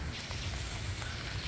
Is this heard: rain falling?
yes